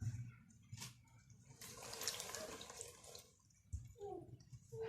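Water poured into a pot while preparing a bitter orange remedy in a kitchen, an uneven splashing pour with short gaps and a few clinks, close and moderately quiet.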